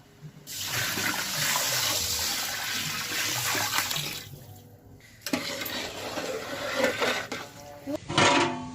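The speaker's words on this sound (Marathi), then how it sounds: "गरम पाणी टाकत आहे मी" Hot water gushes loudly into a pot of rice for dum biryani in a long, steady pour. It pauses briefly, then resumes splashing.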